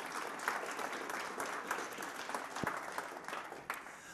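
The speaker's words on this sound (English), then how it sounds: "give them a nice round of applause" An audience at a televised Royal Wedding debate applauds the panel, a dense, even burst of clapping from a full room that holds steady for a few seconds.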